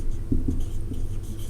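Pen scratching on paper while writing out a maths equation, a faint short run of strokes and taps close by, quiet and alone without speech.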